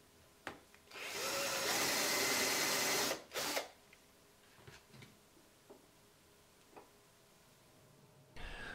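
A power drill bores holes into a wooden fishing lure in one loud, steady two-second burst. Faint clicks and knocks of handling the piece follow, then a brief whir at the end.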